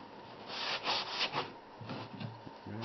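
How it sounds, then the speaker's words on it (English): Sandpaper rubbing over the rounded-over wooden edges of a homemade key rack, a few close, scratchy strokes swelling and fading, with a low hum underneath toward the end. "Sand over the top."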